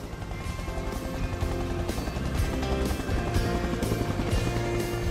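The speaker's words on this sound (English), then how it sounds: "Richard has moored an ex-Navy vessel. It doubles as his helipad and home away from home" A helicopter sits at the helipad on an ex-Navy vessel moored in a remote New Zealand fiord, its engine and rotor roaring loud and close with steady rhythmic blade chop throughout.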